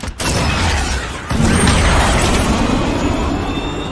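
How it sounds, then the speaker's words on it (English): A cruise missile launches and explodes in Modern Warfare, a sharp burst at the start followed by a second heavy blast that swells into a long, rolling rumble. "Cruise missile away."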